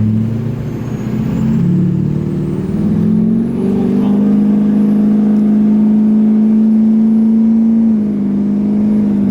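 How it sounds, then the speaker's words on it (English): An LBZ Duramax diesel pickup truck accelerates hard at full throttle on an open road, its deep engine drone steady and loud with a rising whine, heard from inside the cab. "So we'll go full throttle on this road, no traffic"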